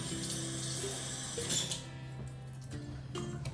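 Celery stalk rinsed under a running kitchen tap, a steady close stream of water hissing into the sink, with a brief splashy change as the stalk moves through it.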